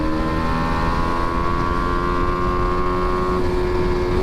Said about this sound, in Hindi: तो ये रहा एग्जॉस्ट नोट।